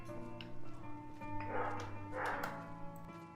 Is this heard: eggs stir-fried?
no